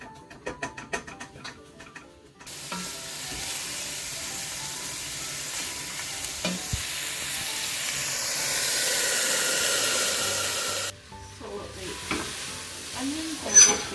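Onions frying in a hot pan and stirred occasionally until golden, a loud steady sizzle and hiss with scraping stirs that rises through the middle, with a few clicks and knocks before and after.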